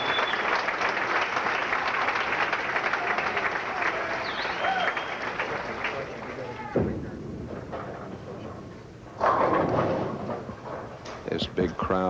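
A big crowd applauds at a 1988 PBA Brunswick Memorial World Open bowling match, with loud, dense clapping for about six seconds, then quieter room noise and a second burst of applause near the end.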